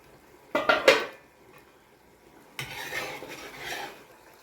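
Metal pot lid lifted off a pot of chicken and potato curry, giving a quick clatter of metal clanks followed by a softer scraping, clinking rustle, close and with no talk.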